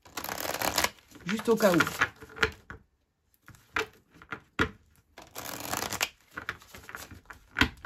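Tarot cards are shuffled by hand in several riffling, riffly bursts separated by pauses, close and moderately loud, while someone talks briefly in between.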